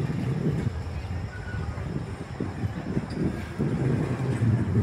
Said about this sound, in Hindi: ट्रैक 12 फ्राइट ट्रेन को लेके जा रहा है।